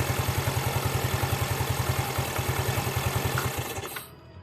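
A Yamaha Mio scooter engine runs after a CVT roller replacement, with a fast, even putter close by and steady under a mechanical whir, then it cuts off near the end.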